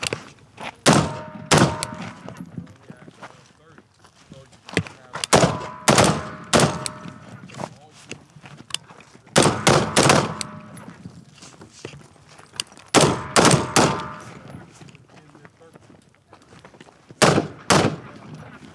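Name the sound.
gunshots during tactical shoot and move drill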